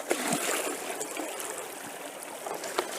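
Water pours out of a bucket beside a stream while gold is being sampled, a loud, close, continuous splashing gush with a few sharper spatters.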